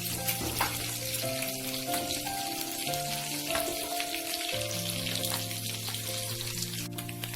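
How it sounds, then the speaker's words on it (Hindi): Small fish frying in a pan, left to cook on the second side, producing a steady dense crackling sizzle throughout, with background music running underneath. "दूसरे साइड में से फ्राई होने तक हम 2 से 3 मिनट के लिए ऐसे ही छोड़ देंगे।"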